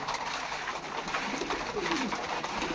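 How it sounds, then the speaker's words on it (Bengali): Soft, low cooing of a giant homer pigeon repeats through a steady background hum, with no talking. "একটা জায়েন্ট হুমা কবুতর"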